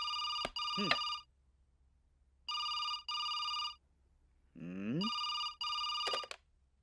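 An old-style telephone bell rings in repeated paired bursts, with brief spoken syllables squeezed between the rings.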